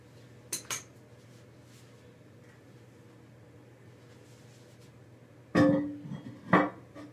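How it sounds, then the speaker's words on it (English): Plastic toilet fill valve set down into a porcelain tank during a home repair: two quick clinks early on, then a quiet stretch before a louder rattle and clatter of parts near the end, close up. "Place the fill valve in the tank."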